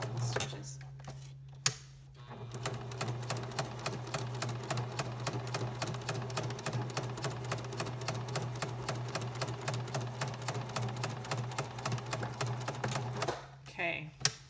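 A sewing machine stitches lace trim at a quiet, even pace, with a soft rhythmic ticking of the needle and a low motor hum running for most of the stretch, briefly stopping near the start and end.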